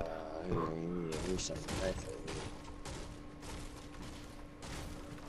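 Shotgun blasts in Fortnite, including a blue pump shotgun, land as several sharp reports spaced through a few seconds, mixed with game effects and people talking.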